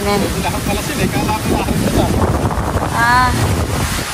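Strong wind at a fish pond buffets the microphone in a loud, continuous roar with low rumbling gusts, and faint voices come through now and then.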